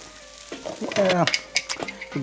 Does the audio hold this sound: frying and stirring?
yes